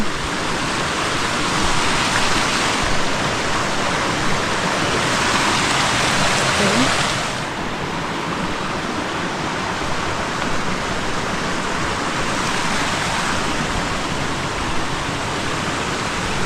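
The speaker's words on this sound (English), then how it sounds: "So this is the next stream crossing." A mountain stream rushes at a hiking trail crossing in the Montreat Wilderness, a loud, close, continuous roar of flowing water that stays steady throughout.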